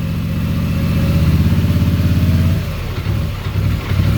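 A 2021 Polaris Sportsman 850 ATV engine revs loud and steady with its throttle idle raised, a pulsing mechanical drone that drops and wavers after a couple of seconds, close by and without talk.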